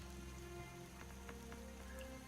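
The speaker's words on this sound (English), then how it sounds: "you can see it gives a little drizzle of water" A wooden watering can in the Starbound video game sprinkles a light drizzle of water over crops, a steady soft patter like rain with a few brighter drops, heard alone.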